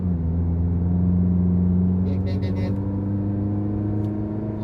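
A 2024 Tata Safari SUV swings through a U-turn with a steady, low engine drone and road rumble throughout, plus a few faint clicks near the end.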